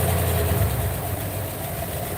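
A Ford F-150 engine idles steadily after valve cover work, a continuous low rumble with an even mechanical tone and faint ticking throughout.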